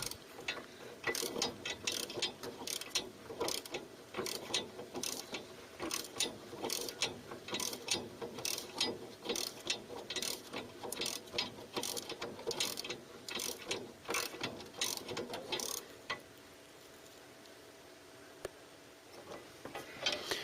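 Swan neck spanner ratcheting while swinging arms are removed from a Mk3 Ford Cortina's rear axle: rapid, close, rhythmic clicking in repeated bursts for most of the stretch, then a quieter pause before a few final clicks.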